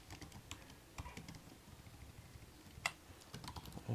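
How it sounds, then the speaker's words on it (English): Keys clatter on a computer keyboard in a steady run of light, close taps with one sharper keystroke near the end, quiet and alone without talk. "Here we'll type Moxie"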